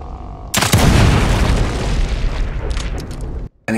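A barrel explodes in the survival horror game Evil Within 2, a loud sudden boom that rumbles and crackles for about three seconds before cutting off abruptly.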